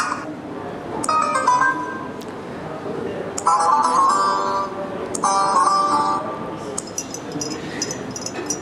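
Short melodic Turkish-style notification chimes on a Turkcell T40 phone play one after another, bright electronic tones repeating several times with a steady background hum beneath.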